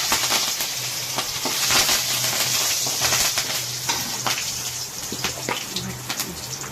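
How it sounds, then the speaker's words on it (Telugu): Curry leaves crackle and sizzle in hot oil while gongura leaf chutney is being cooked, a steady close-up frying hiss with dense bursts of pops and spatters throughout. "మంచిగా వేగేంత వరకు వేయించేసుకోవాలండి"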